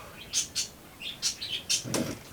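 Birds chirping nearby, a handful of short high tweets scattered across a couple of seconds against a quiet background.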